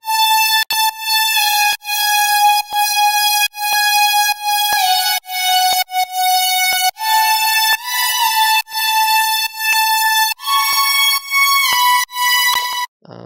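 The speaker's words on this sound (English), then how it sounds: "Moving on, we have the screech lead" A distorted saw-wave screech lead synth, thick with chorus and reverb, plays a bright sustained melody of repeated notes alone, each phrase cut by short gaps, loud and close.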